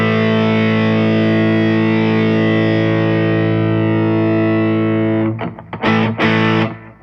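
Loud distorted sustained tone driven through an Ultrawave multiband processor with the mid band boosted, holding steady before breaking into a few choppy bursts near the end.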